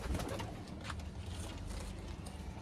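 Pigeons cooing at a pigeon fair where fancy Teddy pigeons are shown, a low, steady murmur of many birds close by, with faint rustling and clatter mixed in and no talk.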